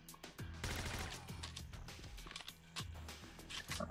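Rapid automatic gunfire from an Abakan-style assault rifle in the S.T.A.L.K.E.R. video game, loud close bursts of shots over dense game ambience, with a few brief pauses between volleys.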